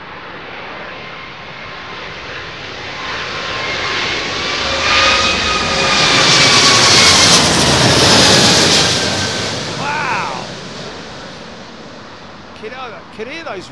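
An airliner's Rolls-Royce jet engines at Heathrow in high winds roar and spool up, swelling to a loud, broad rumble before easing off, with a voice talking over it near the end.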